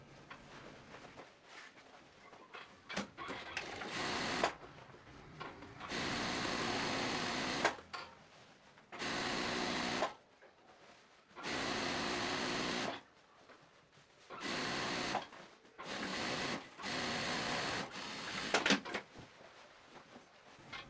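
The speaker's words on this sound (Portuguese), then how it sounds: "Após finalizar a costura de união da lateral, eu vou fazer a costura de segurança até a altura do bolso." Sewing machine running in several sustained stitching bursts of a few seconds each along the side seam of a women's trousers, with quiet pauses between runs; no talking.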